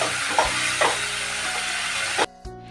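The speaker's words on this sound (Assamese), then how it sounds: "এতিয়া খুব ধুনীয়াকৈ ভাজি ল'ম, আদা নহৰুকে কেঁচা গোন্ধটো যোৱালৈকে" Ginger garlic paste sizzling in hot oil with ground spices, a loud steady hiss punctuated by a few stirring scrapes, cutting off abruptly near the end.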